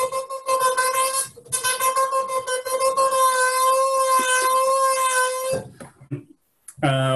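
Synthesizer holding a buzzy square-wave tone whose timbre shifts as a knob is turned, sustained and loud for several seconds with short breaks, then stopping before a voice speaks briefly at the end.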